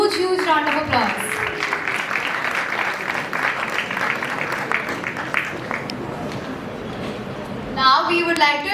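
Applause from the audience at an international startup competition fills the middle of the clip, a steady wash of claps framed by a host speaking at the start and end.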